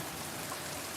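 Rain comes down outside in a brief, even hiss of steady drops, moderately soft and without any pause.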